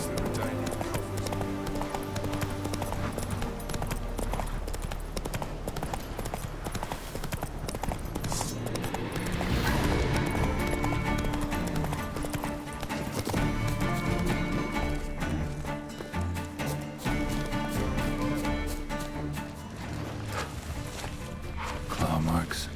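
A horse in The Witcher 3 gallops continuously, its quick hoofbeats near and steady beneath loud music and ambience, with some talk over it.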